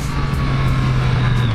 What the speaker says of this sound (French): Puis vous avez du frein moteur hein, quand vous coupez les gaz,